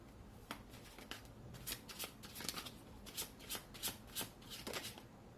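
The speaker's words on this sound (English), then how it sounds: "Let me try and pull one more card here." Tarot cards shuffled and pulled from the deck during a card reading, a close run of crisp riffling flicks and soft slaps in uneven bursts, with no talking.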